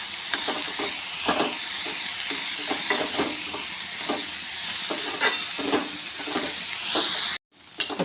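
Okra sautéed in a pan with lemon juice and salt, a steady frying sizzle broken by repeated scraping stirs of the spatula, close and continuous until a sudden brief cutoff near the end.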